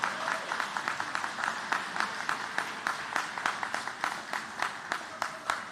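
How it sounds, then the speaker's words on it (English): Applause from a gala audience at a human rights celebration, a steady round of clapping with regular sharp peaks that carries through the whole stretch at moderate loudness. "if you would please give a resounding round of applause for our city partners"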